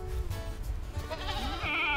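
Goats bleat in a goat pen outdoors in Georgia. A wavering, nasal bleat rises over a rumbling background and grows louder toward the end of the short moment.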